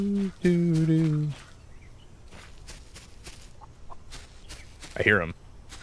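A chicken in the video game Solarpunk gives a loud run of clucks, followed by quieter shuffling and footstep-like sounds and a short, sharp squawk near the end.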